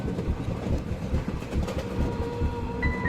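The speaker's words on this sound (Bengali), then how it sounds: "রাত হলে এখানে ভূতের ট্রেন থামে" A train rumbles continuously past at a night-time rural station in an animated ghost story, a loud, even clatter of wheels with a thin tone creeping in at the close.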